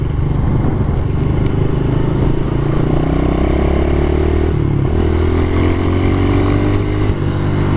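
2015 Honda CRF 110 dirt bike ridden over a rough, rutted road: a loud, close, steady engine drone that shifts pitch as the rider changes throttle, with clattering and rattling from the bumpy surface throughout.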